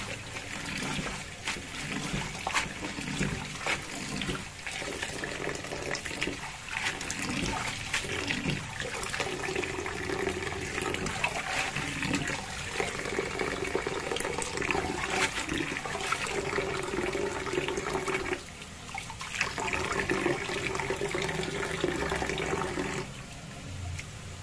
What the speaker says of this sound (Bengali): শাকগুলো ধুয়ে নেব।